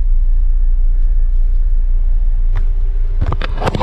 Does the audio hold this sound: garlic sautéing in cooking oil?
no